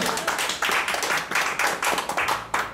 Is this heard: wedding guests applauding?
yes